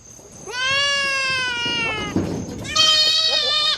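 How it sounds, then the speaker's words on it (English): A young female goat named Tater bleats close by while being fed, giving two loud, wavering cries, the first long and steady and the second shorter and higher, with a brief rustle between them. "first time feeding a goat like that"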